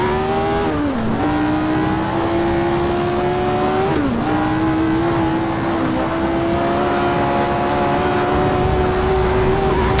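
A race car engine in the Assetto Corsa driving game holds a loud, steady high-revving drone. Its pitch dips sharply twice as gears are shifted and then climbs back, with no talk over it.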